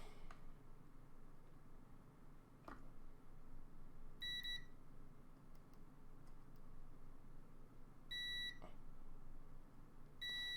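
Short electronic beeps from a multimeter in continuity mode as its probe touches a pin on a simple macro keypad build, three brief tones spaced a few seconds apart over quiet background with faint ticks.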